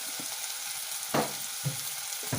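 Onions with salt and turmeric fry in hot oil for a beans and cauliflower curry, a steady sizzle broken by a few louder stirring scrapes, close and without speech.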